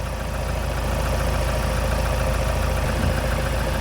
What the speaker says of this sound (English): So we're going to rev it at constantly at 2000